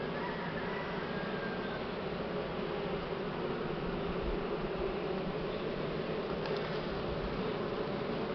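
Dense, steady buzzing of many honeybees in an opened hive during brood nest expansion, a close continuous drone with no pauses and no talk.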